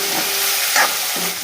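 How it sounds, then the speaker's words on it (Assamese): Eel fish pieces stirred and fried in a hot wok, a short burst of steady sizzling with a brief scraping stir near the middle, close and alone. "গোটেইখিনি মিক্স কৰি ভাজি লওঁ।"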